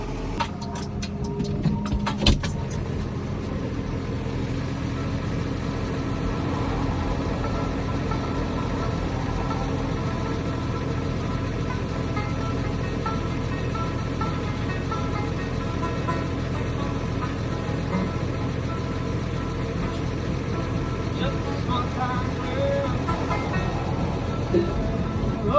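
A tractor engine running steadily while driving, a continuous close rumbling drone with rattling cab noise that holds through the whole stretch without a break.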